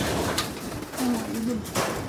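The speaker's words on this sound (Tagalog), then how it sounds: "Ibon." Pigeons cooing up under a roof with gaps that still need sealing, a low rolling coo standing out briefly mid-clip above a steady background hum.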